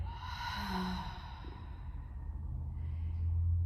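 One long, deep exhale through the mouth, close and audible, fades gently across a breathing pause in a gentle postpartum yoga flow.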